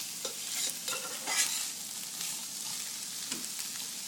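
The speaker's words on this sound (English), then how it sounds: "I'm stirring to marry these very well." Curried chickpeas with ginger being stirred in a pot, a spoon scraping in irregular strokes over a steady soft sizzle, close and fairly quiet with no talking.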